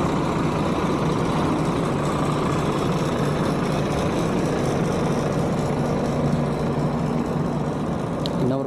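Volvo B11R coach engine droning steadily as the bus drives along, a constant loud low rumble with road and cabin noise throughout, no pauses.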